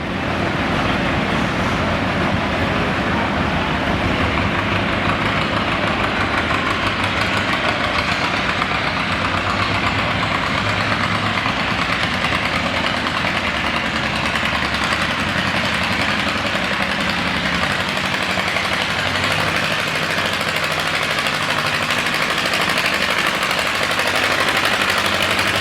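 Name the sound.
John Deere tractor engine pulling at tractor pull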